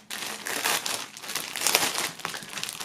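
Items from a limited music bundle being pulled out of plastic foil wrapping, a close, busy run of crinkling and crackling with brief rustling bursts and short pauses, continuous for about three seconds, no speech.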